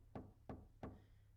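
Three evenly spaced knocks on a door in a visual novel game, close and distinct, about a third of a second apart, with a quiet background hum.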